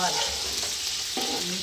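Chopped onions fry with a steady sizzle in a pan while a spoon stirs them, scraping the metal in short strokes over a continuous hiss, part of cooking a fish curry.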